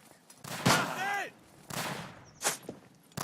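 Artillery fire in the video game Tannenberg, several sharp booming blasts in quick succession, with a voice speaking faintly underneath.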